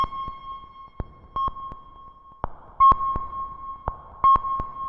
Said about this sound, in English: We up that resonance, we get a little bit more of a pinged sound